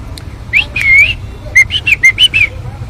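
A parrot that has lost both legs to nylon kite string calls in a run of short, shrill whistled chirps, one longer call early on and then quick bursts, fairly close against a quiet background.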